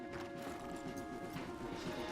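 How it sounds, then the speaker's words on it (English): Hooves of horses walking clip-clop through the Red Dead Redemption II video game, a soft, steady plodding rhythm under ambient game sounds and a faint tonal hum. "let's dismount here. We won't get the horses down this path."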